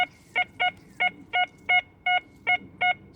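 A Minelab Equinox metal detector, running its general program over deep big iron buried seven to eight inches down, gives eight short, evenly spaced two-toned beeps in a steady rhythm, clear and close above faint background hiss.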